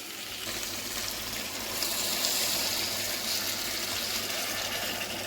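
Water pours steadily onto tamarind in a pot for bottle gourd curry, a continuous rushing, gushing sound, close up and without talk.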